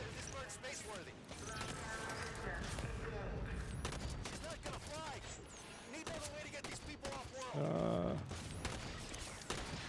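Repeated grenade blasts and bursts of gunfire crack through a Halo 5: Guardians firefight against crawlers on Legendary difficulty, with dense rapid bangs and a voice talking over them.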